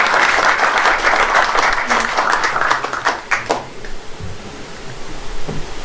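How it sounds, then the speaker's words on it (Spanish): A Mexican cultural-event audience claps in dense applause that thins into scattered claps after about four seconds, then fades to near quiet with a few isolated claps. "Bueno, le damos un aplauso."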